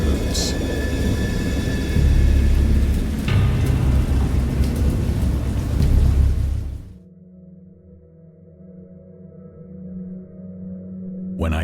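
Heavy rain roars with rumbling thunder for several seconds, then cuts off abruptly to a quiet low hum.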